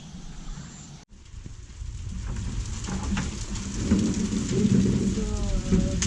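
Heavy rain with fat drops pours steadily and loudly in a Himalayan village, a dense hiss that grows stronger after a brief dip, with a low rumble underneath.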